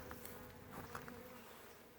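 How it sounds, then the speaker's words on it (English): Honey bees buzz close around a beekeeper, a dense, steady hum with individual bees passing near. "Boy, I got bees all around me."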